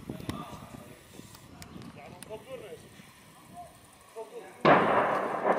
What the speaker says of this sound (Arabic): قصف مدفع عنيف يستهدف القرية.